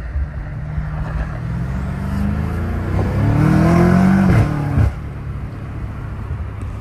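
Catless BMW M5 Competition engine revving and accelerating hard, a rising loud roar with climbing pitch that peaks and drops off sharply, then settles into a lower rumble.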